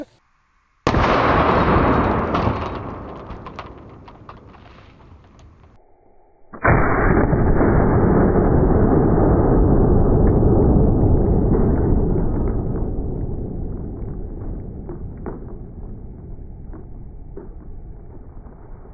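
Two heavy gunshots fired at a bulletproof home-protection shield, each a sudden loud blast followed by a long booming decay that rings for several seconds, with a quieter gap between them.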